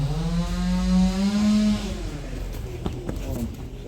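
Chainsaw droning from neighbouring gardens in spring, a buzzing engine tone that holds steady then fades, heard at a distance under the start of a man's speech and some clattering.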